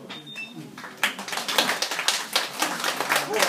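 Applause at a bookstore awards event for a children's drawing contest, scattered claps that build after a quiet start into an uneven rhythm of close hand claps, with a voice speaking beneath.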